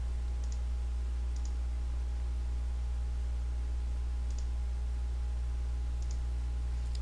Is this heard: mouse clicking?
yes